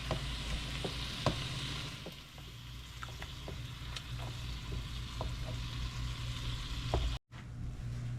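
Ground beef mashed and browned in a pan for a taco lasagna, a steady sizzle with intermittent scraping and stirring clicks, close and continuous with a brief dropout near the end.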